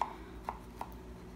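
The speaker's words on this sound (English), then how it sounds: "Done slicing the tomatoes" A kitchen knife cuts slippery homegrown tomatoes on a board, three crisp taps spaced about half a second apart, close and fairly quiet, with no voices.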